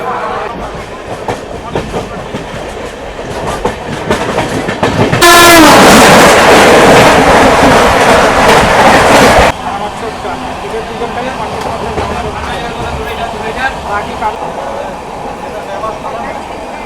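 The 18045 Shalimar to Vizag East Coast express runs along its line, a steady loud rolling rumble with a louder, brighter roar for a few seconds in the middle before the train noise settles back.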